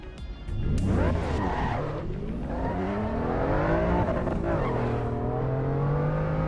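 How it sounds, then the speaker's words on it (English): A car in Assetto Corsa Evo screeches its tires loudly while the engine revs and shifts pitch, a continuous close squeal and engine drone lasting several seconds. "I think this is one of my least favorite cars to drive in Assetto Corsa Evo."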